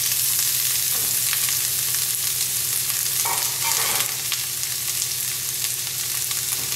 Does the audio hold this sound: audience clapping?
no